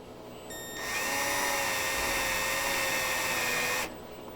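A drill press spins up and runs at a steady whine while slowly and gently tapping a threaded hole in a sprocket, holding an even pitch for about three seconds before winding down.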